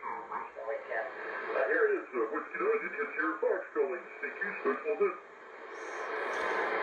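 A voice broadcast plays from a Drake TR7 communications receiver tuned to a station, with narrow-band, filtered radio audio of continuous talk and a hiss rising as the signal fades at the end.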